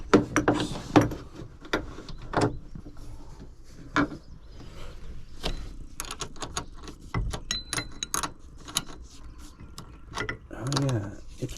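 A ratcheting wrench clicks and turns while working on the centerboard of a San Juan 21 sailboat, with irregular close clanks, rattles and knocks from the mechanism and faint movement noises between bursts.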